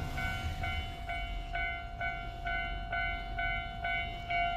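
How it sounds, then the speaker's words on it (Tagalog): A train arriving at a mall station, a steady rumble with a repeating tonal chime or beep pulsing about twice a second over it, sustained and fairly loud. "dating ng tren."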